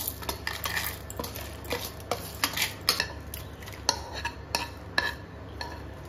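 Roasted chutney ingredients are scooped from a pan into a mixer jar for grinding, with a series of light clinks and scrapes of a spoon against metal at an uneven rhythm, close and fairly quiet, with no talking.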